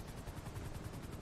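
Rapid gunfire in GTA 5, a steady rattle of shots at an even rhythm, fairly quiet and distant-sounding with no talk over it.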